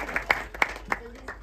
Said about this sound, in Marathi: एकदा टाळ्या वाजूया